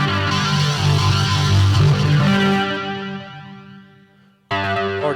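Heavily distorted electric guitar chords from an SP-808 multi-effects distortion setting ring out loud and sustained, fading away before a fresh distorted chord crashes in at the end.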